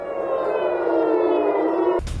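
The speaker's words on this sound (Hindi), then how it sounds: "मिसाइल अटैक के बाद गूंजा सायरन।" Air raid siren sounding in Tel Aviv after a missile attack, a loud steady wail holding for about two seconds before cutting off abruptly into a brief burst of broadband noise.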